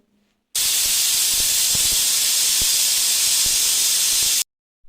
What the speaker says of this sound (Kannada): ಇದನ್ನು ನಾನೀಗ ಎರಡು ವಿಷಲ್ ಕೂಗಿಸ್ಕೊಳ್ತಾ ಇದ್ದೀನಿ